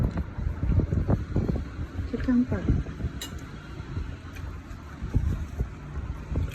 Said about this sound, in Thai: วันนี้ลมดีมากๆเลยค่ะ